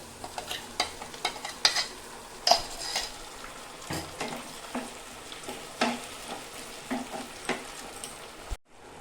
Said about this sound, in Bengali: মশলাটা আমার পেস্ট হয়ে গেছে, মশলা পেস্টটা দিয়ে দিব।